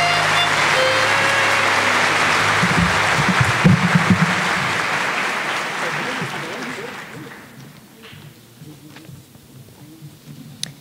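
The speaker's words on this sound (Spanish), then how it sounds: "Ofrecemos un fuerte aplauso a los nuevos tecnólogos en gestión de procesos logísticos." Applause for new logistics process management technologists at a university graduation ceremony, a full crowd clapping loudly for several seconds before thinning out to scattered claps and quiet room noise.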